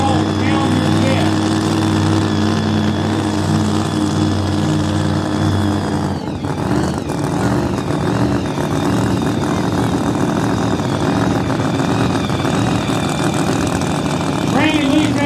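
A pulling truck's engine roars at a night truck and tractor pull in Lumberton, North Carolina, a loud sustained exhaust rumble that dips briefly and then returns, close and dominant, with an announcer's voice over it.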